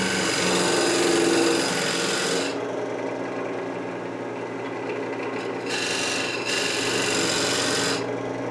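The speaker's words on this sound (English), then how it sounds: "here I'm spending a little bit of time smoothing out that mortise and shaping the bottom of the bowl" Turning tools smoothing and shaping the bottom of a maple and epoxy resin bowl on a lathe, a loud continuous rasping scrape that drops in intensity partway and returns in short bursts.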